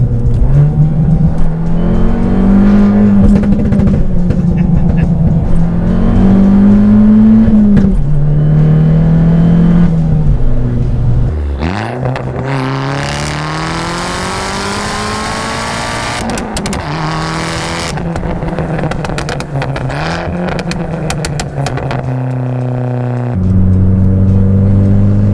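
An upgraded Abarth with new springs and shock absorbers driven hard, its engine revving loudly up and down through gear changes, steady and close with rising pitch sweeps and no talking.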